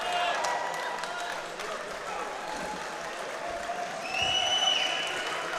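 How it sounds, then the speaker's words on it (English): An audience at a judo tournament claps and cheers as a broad, moderate wash of crowd noise that swells toward the end, with some voices mixed in. "And a lot of cheering from the audience"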